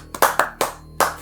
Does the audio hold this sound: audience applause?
yes